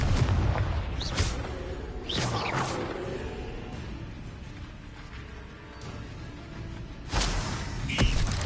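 Booming spell blasts in the video game Hogwarts Legacy: three separate explosive bursts with a whooshing crack, spaced apart over a low rumbling battle ambience, loud and close.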